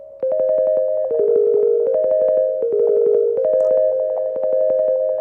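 Nord synth chord part run through a beat repeat effect with gating, sounding as rapid, evenly chopped stuttering tones that step between a few pitches in a steady rhythmic loop.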